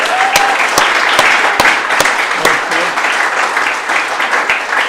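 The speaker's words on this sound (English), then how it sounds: "So why don't we also give a round of applause for the teachers?" Sustained applause from a school audience at an eighth grade speech event honoring the teachers, a full, even wash of many hands clapping close by with a few sharp individual claps standing out.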